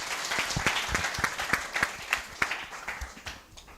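Workshop and expo crowd giving a round of applause, steady clapping from many people with distinct individual claps, slowly tapering off by the close.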